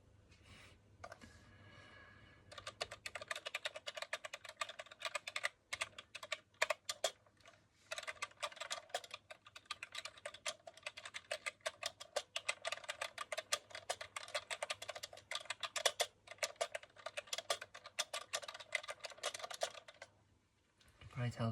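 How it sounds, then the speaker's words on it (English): Rapid, steady typing on a computer keyboard, close and crisp, continuing for about twenty seconds with brief pauses, as soft-spoken ASMR. "You can probably tell that I'm not typing real words"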